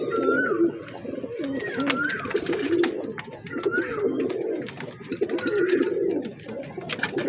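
A pair of Rampuri pigeons, one male and one female, coo nearby in repeated soft, throaty phrases that rise and fall in a steady rhythm.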